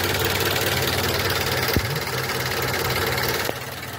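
A car engine idles with heavy vibration during an idle speed control valve test, giving a steady, low, throbbing hum that holds even with only a couple of faint clicks.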